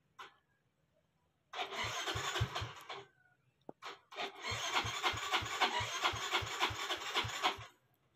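Yamaha Mio-i 125 motor scooter with a push-start fault cranking with rapid starter chatter, pausing, then cranking again and catching into a running engine, close and alone.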